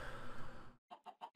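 Chicken clucking in the Minecraft video game, a burst of rustling noise followed by four short, quiet clucks in quick succession.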